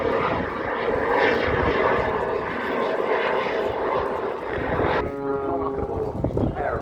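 An aeroplane flies its final manoeuvre at the Duxford summer airshow, a loud sustained engine drone overhead that shifts to a rising, tonal whine near the end.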